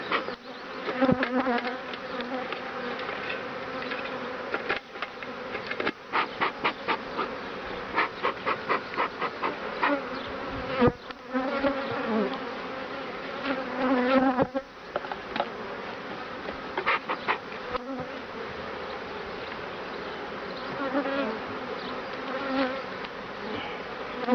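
Honey bees swarm and buzz around an opened beehive while a second hive body is added, a dense, steady hum close by with scattered clicks and knocks from hive handling, no voices.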